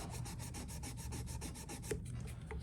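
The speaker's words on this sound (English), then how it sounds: "Got this 1000 grit 3M Trizac, which I really like to use on frets." Ukulele frets on a 1950 Kay Jungle uke are rubbed with 1000 grit 3M Trizac abrasive, giving a quiet, steady, rhythmic scrubbing rasp with repeated back-and-forth strokes.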